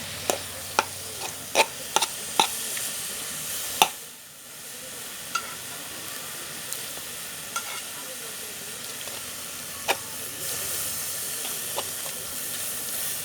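Minced pork stir-fried in a pan, a steady sizzle and hiss punctuated by repeated sharp clacks of a utensil against the pan, with a brief softer moment partway through.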